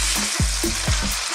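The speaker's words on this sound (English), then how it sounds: "Now just stir frying, don't take your" Beef sizzles loudly in a hot wok, with rhythmic scraping stirs every few tenths of a second.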